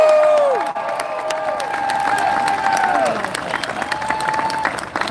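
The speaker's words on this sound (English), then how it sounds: "Let's give them a round of applause." A rally crowd applauds and cheers for veterans at a gun-rights gathering in Richmond, with steady loud clapping and shouts across the whole stretch, while a prominent voice calls out over it.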